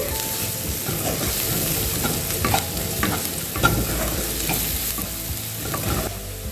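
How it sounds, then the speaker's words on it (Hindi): Spices for palak paneer, including kasuri methi and garam masala, roast lightly in a pan with a close, continuous crackling sizzle. Irregular scraping taps from stirring are scattered throughout. "सारे मसाले को हल्का भूनेंगे।"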